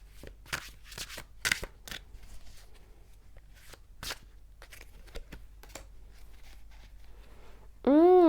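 Ritual Tarot cards are shuffled by hand in soft, uneven riffles and slides, quiet and close, ending in a brief loud tonal sound.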